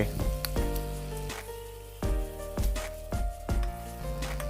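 Steady sizzling and crackling of an egg frying in a hot pan, with repeated pops and ticks over a dense hiss, close up and fairly loud.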